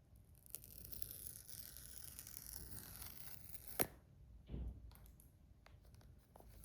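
Protective film is peeled during an iPhone 17e unboxing, soft quiet tearing and crinkling with one sharp snap midway, close and faint with no talk.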